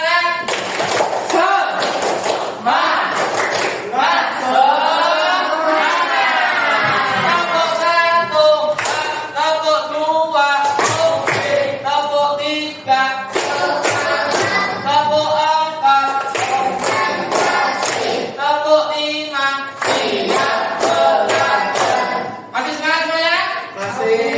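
A group in an Indonesian religious education classroom performs a rhythmic clapping chant, bursts of sharp synchronized claps alternating with sung or chanted voices in a repeating pattern over about twenty-four seconds.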